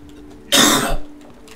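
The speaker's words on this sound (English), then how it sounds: "Why do you think you're coughing so much?" A single short burst of coughing or throat clearing, loud and close, set against a quiet background in the middle of a video game session.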